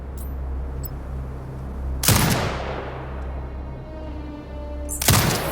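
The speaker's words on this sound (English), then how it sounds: "Exit binocular mode and command the turret to fire." A video game turret fires on marked hostiles in two sharp, loud bursts about three seconds apart, the first trailing off into a long fading rumble over a steady low machine hum.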